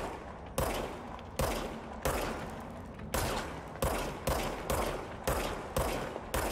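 Repeated bursts of gunfire from supernatural magic guns in the action game Control ring out loud and close, about eight sharp shots at uneven intervals, each followed by a decaying tail.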